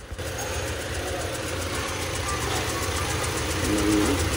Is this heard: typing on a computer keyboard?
no